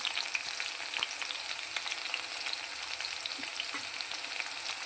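Garlic and green chillies frying in oil: a continuous crackling sizzle with fine popping and spitting, close and fairly quiet, steady throughout with no voices.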